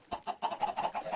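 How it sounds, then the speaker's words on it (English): A Minecraft FTB chicken from a spawner clucks in a quick run of about seven short, clipped clucks, close and clear against a quiet background. "note how the spawner only spawned one chicken"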